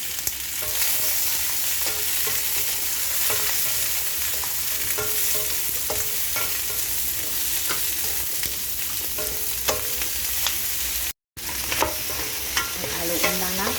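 Bell pepper and fried pork ribs are stirred in a hot pan. A steady sizzle runs throughout, with repeated scraping of the spatula against the pan and a brief cutout near the end.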